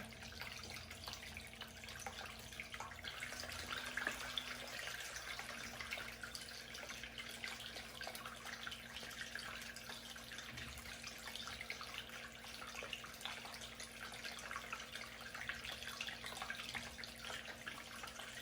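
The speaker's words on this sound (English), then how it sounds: "So our rainstorm is happening now, and more water is moving through the system." Water runs steadily through a stream table model during a simulated rainstorm, a continuous soft trickling and splashing that stays even throughout with no voices.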